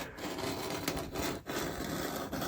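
A sharp bladed knife cuts and scrapes into a model railroad turnout, giving a close, steady rasping and scraping with a couple of brief pauses.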